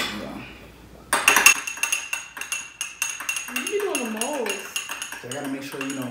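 A metal spoon clinks and scrapes quickly and repeatedly against a dish while stirring baby food up close, and people talk in between.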